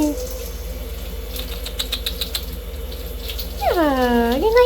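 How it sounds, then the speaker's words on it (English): Water trickles steadily from a tap over a hand for a puppy, a soft continuous splash with light clicks, followed near the end by a rising, wavering dog whine. "Let's see if I can get a little waterfall going for him on my hand."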